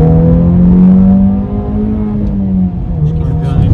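Close by, a Honda Civic Type R FK8 engine holds a strong, steady drone. Its pitch shifts slightly as it eases off and picks up again, giving a race-car tone.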